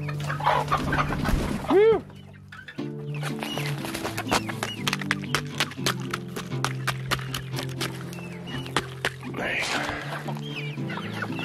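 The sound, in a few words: chickens clucking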